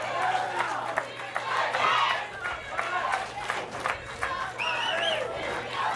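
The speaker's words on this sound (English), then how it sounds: "I hear some cheering now" Crowd at a girls' high school state finals game cheering and shouting in a gym, a steady roar of many voices with a few sharper yells and whoops rising near the end.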